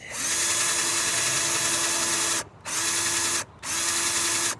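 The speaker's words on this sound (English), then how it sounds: "it looks like it's actually drilling into the head" Power drill spinning a bit into a stripped screw head on a GI Joe action figure: a loud, steady whirring whine in three bursts, the first long and the next two shorter, separated by brief stops.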